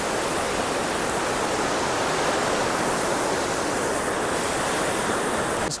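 A rushing mountain river near a bridge on the Kinnaur Kailash route pours in a steady, loud, broadband roar that stays close and unbroken from start to finish, with no voices over it.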